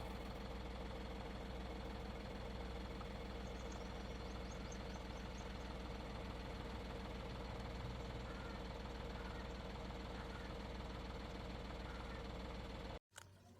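An Ashok Leyland Bada Dost mini truck's diesel engine idles steadily with a low, even knocking rumble, close and continuous, cutting off abruptly near the end.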